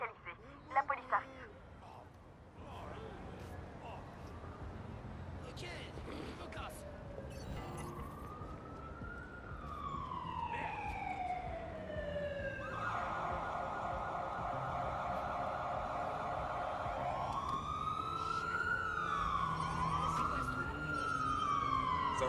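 A police siren in the video game Watch Dogs 2 approaches, its rising and falling electronic wail sweeping through several pitch changes and growing steadily louder over a background of game sounds.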